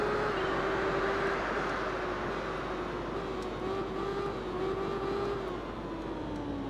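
Motorcycle engine in the racing video game Tourist Trophy, a fast bike holding a steady high-pitched drone whose pitch drifts gently as it runs on, unbroken for several seconds with no talk.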